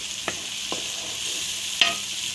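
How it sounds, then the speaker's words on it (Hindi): Tomato masala fries in a pan with a steady low sizzle while a spoon scrapes through it in three sharp, spaced strokes, close and fairly quiet. "टमाटर ऐड करने के बाद मसाले को अच्छी तरह फ्राई करना है"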